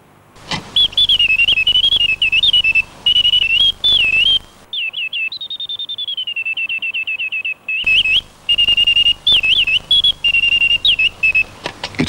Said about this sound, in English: the bird's trill is produced on the penny whistle principle, with wind from a tiny pair of clockwork-operated bellows